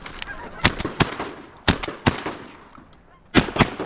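Shotgun blasts ring out during a late-season goose hunt over decoys, about seven loud sharp shots in quick clusters, with honking geese and brief voices in between.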